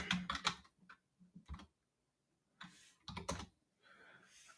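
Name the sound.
computer keyboard typing, pressing Control P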